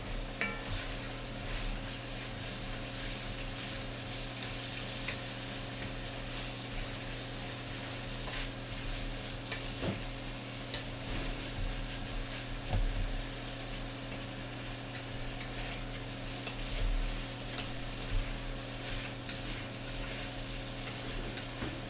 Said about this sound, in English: just stir those vegetables up